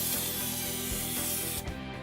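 A spray gun fed from a CBA canister gives a continuous close hissing spray that stops sharply toward the end.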